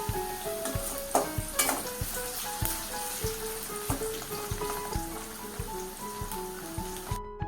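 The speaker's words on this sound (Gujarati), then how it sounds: "બટેટાની ચીરીઓ પણ તળાઈ ગઈ છે" Potato slices fry in hot oil for a tendli and potato sabzi, a steady close-up sizzle with frequent sharp pops and crackles. The sound stays moderately loud and cuts out abruptly at the very end.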